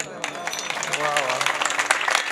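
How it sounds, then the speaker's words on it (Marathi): Applause from a kirtan audience, a steady broadband clatter of many hands that swells and holds for a couple of seconds, with a faint voice in the background. "माईक सिस्टमासाठी पण एकदा जोरात टाळ्या वाजवा"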